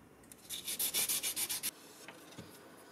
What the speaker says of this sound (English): we go back to hand sanding and get that handle down to exactly how we want it